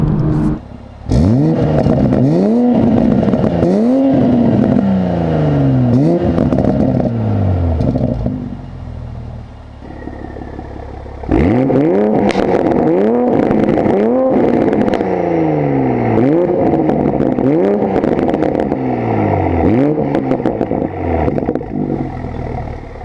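A stock Toyota Mark V Supra with a newly installed aftermarket exhaust revs hard again and again, rising and falling in sweeping bursts toward 6,000 RPM, pausing briefly midway before resuming.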